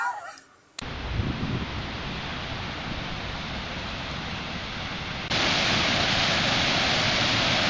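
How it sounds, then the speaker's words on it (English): Flowing water of the Flint River, a loud steady broadband rush like a weir or rapids, continuous for several seconds and growing louder partway through, with no voices over it. "this is the Flint River"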